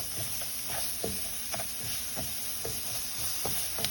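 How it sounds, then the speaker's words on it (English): Diced onion and garlic sauté in a pan with a faint, constant sizzle and a series of soft, evenly spaced scrapes as the pieces are stirred, close and quiet. "we'll add our diced onion and our garlic and continue to saute."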